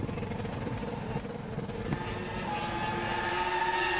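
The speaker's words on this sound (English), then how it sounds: "you can hear him revving" A 2002 Formula 1 car engine at the Australian Grand Prix drones and revs with a rough, buzzing tone that rises in pitch and loudness toward the end, with no voices over it.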